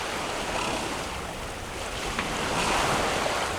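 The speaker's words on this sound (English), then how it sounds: "All right, well, we have wind." Wind and waves while sailing at sea in about 18 knots of breeze on the port quarter, a broad continuous rush of wind noise and surf washing around the boat, steady and loud with no talking.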